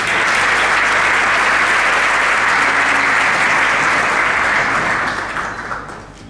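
Dense, sustained applause from a dinner audience at an SPE-KSA technical programs event welcomes a speaker to the stage, steady and loud before tapering off at the end.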